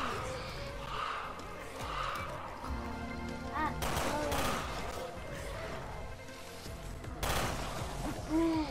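Raid mode video game gunfire: scattered shots and sharp cracks mixed with in-game effects, moderately loud with louder bursts around the middle and end, while players talk over the action.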